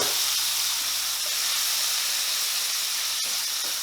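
A loud, steady sizzle and hiss of tomatoes frying in a hot pan, continuous and close, with a faint clatter near the end.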